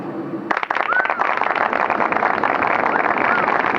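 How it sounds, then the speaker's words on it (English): Canned applause sound effect on a podcast, a crowd clapping that cuts in suddenly after a short spoken moment and then carries on as a loud, dense roar to the end. "What are they clapping for?"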